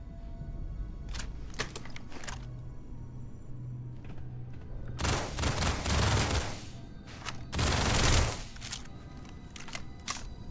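Bursts of automatic gunfire in the space shooter Starfield, an upgraded Equinox rifle emptied in a mag dump: scattered sharp shots early, then two loud sustained volleys with quiet gaps between.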